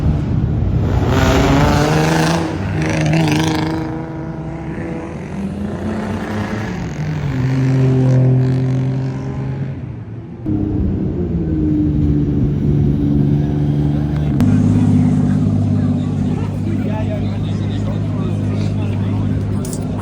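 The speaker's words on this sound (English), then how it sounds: "Cars are like going crazy." Cars drive along a busy Tokyo street at night around 10 pm, their engines revving and passing close by in loud, continuous waves over outdoor ambience, with people talking nearby.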